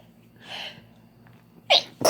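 A young girl lets out a soft sneezy breath, then two sharp, loud sneezes close together near the end, heard up close with no talking.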